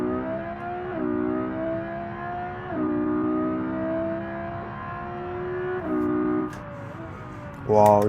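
A twin-turbo Lamborghini Huracan Performante accelerates hard on a timed run, its engine note climbing steadily through several gears with brief drops at each shift, loud and close, and a short rise in pitch near the end.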